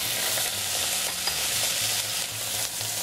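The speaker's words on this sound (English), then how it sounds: "Stir them around to coat them with the margarine. Keep them moving around in the pan" Brussels sprouts are stirred in melted margarine in a hot frying pan, a steady sizzle broken by repeated scraping and shuffling as they are kept moving, close and with no talking.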